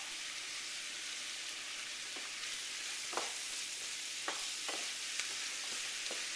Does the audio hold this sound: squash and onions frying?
yes